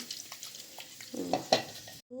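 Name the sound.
stirring water in a used cooking pan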